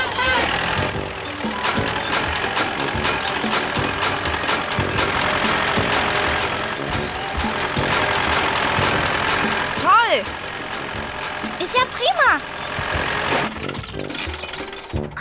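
A small red tractor's engine chugs and rumbles in a children's cartoon, steady and mechanical under a musical background, with voices talking over it.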